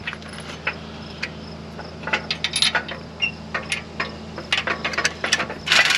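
Close, sharp ratchet clicks come in short bursts while a bolt is tightened on a Case IH SDX40 drill, with brief pauses and metallic handling noises between strokes.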